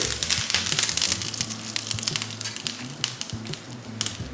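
Mustard seeds and curry leaves tempered in hot oil, loud close crackling and spitting sizzle with sharp pops scattered throughout, no voices.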